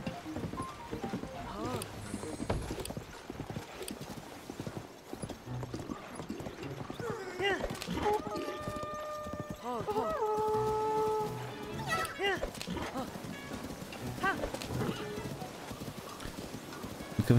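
Horse hooves clip-clopping in the video game Zelda: Tears of the Kingdom, a steady rhythmic trot running throughout with a brief whinny, while someone talks over it.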